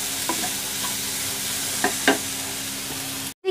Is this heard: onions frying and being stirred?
yes